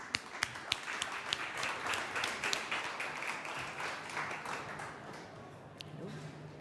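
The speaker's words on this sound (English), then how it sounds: "A big round of applause, please." Applause from a conference audience welcoming an afternoon panel: a steady wash of many hands clapping for several seconds, with a few sharper individual claps near the start, fading slightly toward the end.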